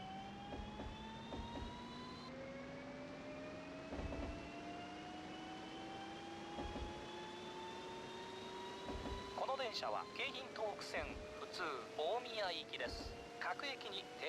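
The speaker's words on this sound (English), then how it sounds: "let's get the train to 60 km per hour" A train engine hum in Densha de Go! rises steadily in pitch as it gains speed toward 60 km/h, with rising whistling tones and intermittent clicks and rattles over a constant background.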